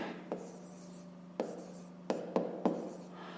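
A pen writes on paper during a fifth-grade maths lesson, making quiet, close scratching strokes with five distinct bursts spaced irregularly across a near-silent background.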